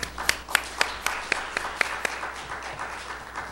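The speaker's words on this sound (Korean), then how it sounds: "박수 부탁드립니다." An audience claps for a panel speaker at a Korean technology conference, with sharp individual claps over a steady wash of applause that tapers off over a few seconds.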